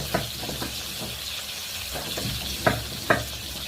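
Food fries in a pan with onion and garlic, giving a steady close sizzle throughout. Several sharper scrapes and clacks of stirring cut through it at uneven intervals, with no talking.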